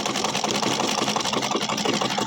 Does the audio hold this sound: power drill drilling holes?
no